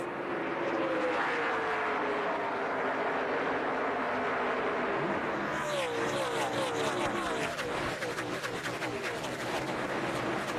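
A field of NASCAR Winston Cup stock cars roars at Rockingham, a loud, continuous engine drone with rising and falling pitches as cars pass close, the pack thickening into a denser, harsher roar partway through.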